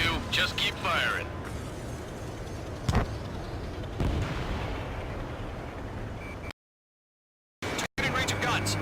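Fighter jet cannon fire and explosions in the Ace Combat 7 video game campaign, a few heavy booms and bursts over a steady roar of engines and radio chatter, cutting briefly to silence near the end.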